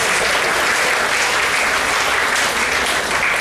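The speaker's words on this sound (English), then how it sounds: "Give yourselves a round of applause." A banquet audience at an annual all-sports awards banquet applauds in a steady, full burst of clapping that continues without a break.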